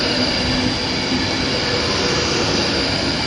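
A Pacer train coupled to a Class 156 at Wigan North Western, giving a steady, loud rail rumble with wheel noise that holds without pause throughout.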